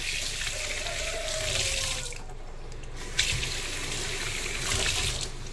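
Tap water running steadily into a bowl of frozen fish heads, a continuous hissing gush with slight splashing changes as the flow fills the bowl, close by.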